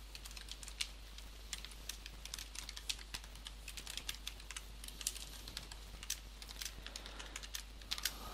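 Rapid, continuous typing on a computer keyboard, close and fairly faint, with a low steady hum beneath the keystrokes.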